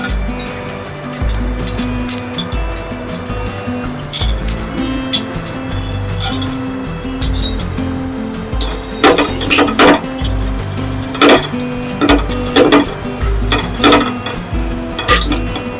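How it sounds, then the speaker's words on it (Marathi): Whole spices for kadhai masala, with mustard seeds already crackled, sizzle and fry in a pan over lowered gas heat, a steady frying hiss with scattered pops, spoon stirs and clinks of metal against the pan, and no talk. "आता आपण गॅस जरा स्लो करू आणि याच्यात आपण कढई मसाले सगळे घालून घेऊ"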